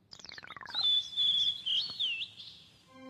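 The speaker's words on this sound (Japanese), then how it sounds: "珍しい鳥がいるぞ" A cartoon rare bird chirps, first a quick descending run of bright tweets, then a sustained warbling whistle, clear and alone for a few seconds.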